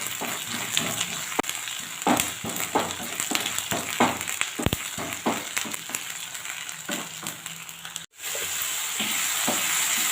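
Mushrooms frying in a pan for a pepper fry, a steady close sizzle broken by frequent scraping and tapping of a spatula, which stops briefly before the sizzle resumes alone.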